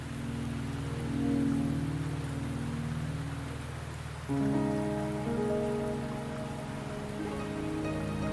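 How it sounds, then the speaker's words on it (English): Steady rain falls in the video game Wuthering Waves, a continuous hiss of drops on surfaces with layered musical tones running beneath and swelling midway. "The rain is subsiding, and the sky will soon clear."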